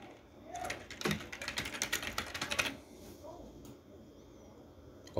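Rapid typing on a computer keyboard, a quick run of close, crisp key clicks in bursts that then trail off to a few faint taps in a quiet room.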